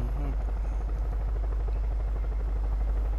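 Constant close whir and rhythmic rotor chop of a helicopter in Far Cry 5, loud and steady throughout with people talking over it.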